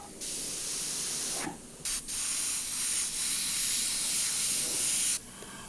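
An airbrush sprays paint in long, steady hissing passes while a dragon is painted, with a few short breaks in between, close and fairly loud.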